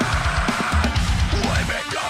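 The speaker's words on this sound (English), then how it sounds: "djent, which by the way, if you're not familiar, refers to bands that sound like this." Djent metal plays loud and dense throughout, with heavy low chugging guitar and pounding drums in a tight, syncopated rhythm under a bright, saturated top.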